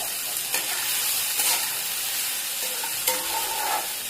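Soya chunks hit hot oil in a home kitchen pan, giving a steady, close sizzle and crackle with occasional stirring scrapes and brief bursts of spitting, and no voices.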